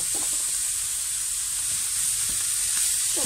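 Fava beans sizzle steadily as they are added to a hot pan of olive oil, a loud, continuous frying hiss with no talk.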